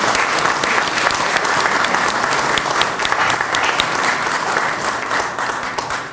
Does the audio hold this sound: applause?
yes